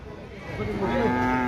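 A single drawn-out cattle moo rises and holds, close and clear, over murmuring voices at the Devarakadra weekly bull market.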